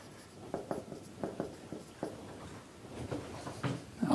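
Chalk or marker taps and strokes on a board during a linear programming lecture, a series of short scratchy writing bursts in a quiet room.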